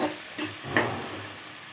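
Sliced onions sauté in a hot pan for a coconut milk rice, a steady close sizzle with a couple of soft spatula scrapes near the start and no talking.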